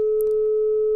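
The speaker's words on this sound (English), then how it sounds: "And here's a little bit of magic, right? Self-oscillating filter." A self-oscillating filter in the Vital software synth sounds a pure, steady sine-like tone with no other source, holding at one pitch for the whole second with a faint higher partial.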